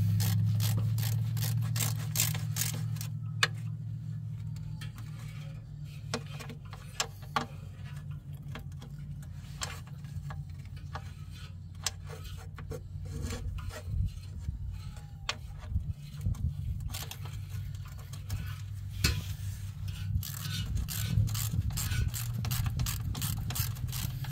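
A ratchet wrench clicks in a steady rapid stream while tightening a bolt on an automatic transmission pan, close and continuous against a low hum, with no talking.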